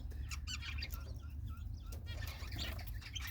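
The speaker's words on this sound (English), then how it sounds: "They constantly make little tweeting sounds, follow their parents around." Small high tweets and chirps from button quail chicks, scattered and fairly close over a steady low background hum, with bursts of soft peeping repeating throughout.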